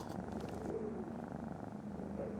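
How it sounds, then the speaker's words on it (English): A house cat purring loudly and continuously close to the microphone, a low steady rumble throughout with no talk over it. "That cat is so loud."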